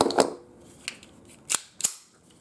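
Metallic clicks and clacks of a Smith & Wesson M&P Bodyguard .380 pistol's slide and action being worked as it is cleared, a few sharp snaps in quick succession, close and without talk.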